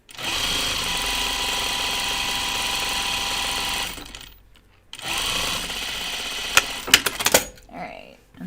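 A sewing machine runs a steady, continuous stitch along a striped 1940s-style dress seam for several seconds, pauses, then starts again with some clicks and handling noises; close and fairly loud.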